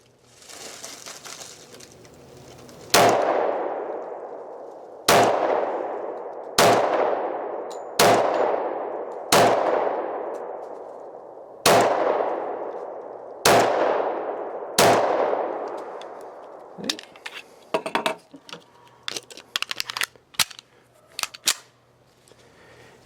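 A Sig Sauer Legion P220 10mm pistol fires seven sharp, loud shots at uneven intervals outdoors, each crack trailing off in a fading echo, followed by lighter metallic clatter and handling clicks.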